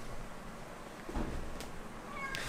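A house cat gives a short meow indoors, brief and moderately close against quiet room background.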